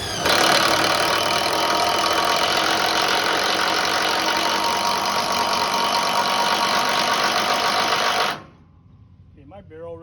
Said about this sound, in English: all I'm doing is hammering the snot out of this drive bolt